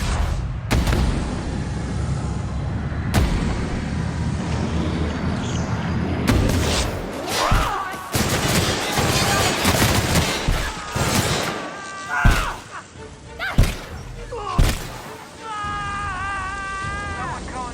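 Gunfire in The Outer Worlds: dense bursts of shots and booming impacts over rumbling game sound, with sharp cracks spaced through the latter half and a voice calling out between them.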